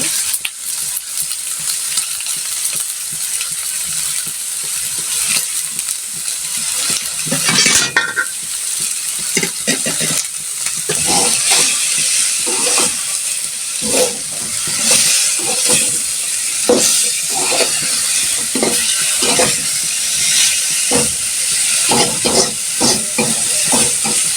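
Bitter gourd (karela) sizzles loudly in a hot pan while being stirred, with a steady frying hiss broken by repeated scraping strokes of a utensil against the pan.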